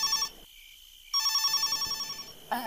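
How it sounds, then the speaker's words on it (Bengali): An electronic phone ringtone plays in short bursts with a brief quiet gap, clear and close, with no voices. "হঠাৎ দাদার ফোনে রিং বেজে উঠল।"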